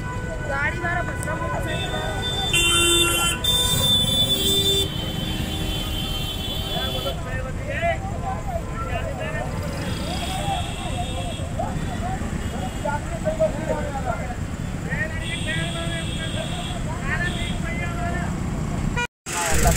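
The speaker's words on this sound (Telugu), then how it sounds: "ఇప్పుడు ఇక్కడ చూడండి ట్రాఫిక్ జామ్ అయిపోతుంది" A traffic jam near a closed gate on a road trip from Mathura to Roorkee, with repeated car horns tooting over a constant engine rumble and a long sustained honk early on. People talk throughout.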